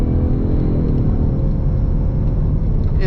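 A Ford Mustang 2.3 EcoBoost's engine drones steadily from inside the cabin, a loud continuous low rumble as the car drops back to second gear and pulls again.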